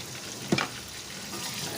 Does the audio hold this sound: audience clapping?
no